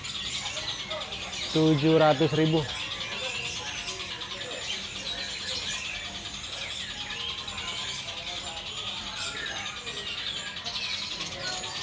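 Caged songbirds at a kiosk in the Pramuka bird market chirp and trill almost nonstop, with a loud repeated call near the start, while someone talks over the birdsong throughout.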